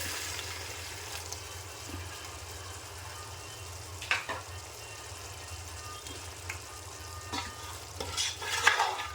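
Mutton roast in thick coconut milk is stirred in a pan, a low simmering sizzle under repeated scraping and clinking strokes of the spoon, a few sharper knocks toward the end.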